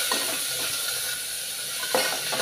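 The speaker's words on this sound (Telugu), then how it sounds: "ఇవి బాగా వేగాలి" Chopped onions frying in hot tempering oil for an eggplant curry, giving a steady close sizzle and hiss with a few faint scrapes of stirring and no voices.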